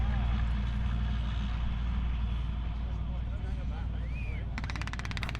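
Leopard 1 tank driving past at a military vehicle display, a loud, steady low engine rumble and track roar close by throughout, with a brief high whine near the end.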